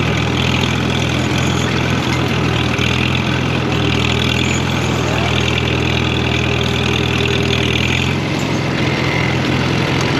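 A vehicle engine idles steadily in second gear at close range, a loud continuous rumble with a slight shift in tone near the end.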